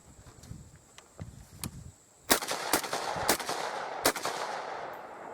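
A Bushmaster ACR rifle fires a string of sharp outdoor shots, scattered single cracks at first, then louder, quicker reports, each ringing briefly over a hissing background.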